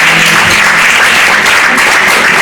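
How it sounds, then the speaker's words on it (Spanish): A church congregation claps in praise during a service, a dense, steady wash of many hands filling the room, loud and continuous throughout with no break. "¿Cuántos le dan un aplauso a Dios en esta hora?"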